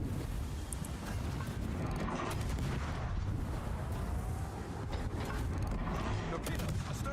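Warship guns fire in a World of Warships naval battle, producing dense, continuous booming and rumbling salvos layered with other battle noise.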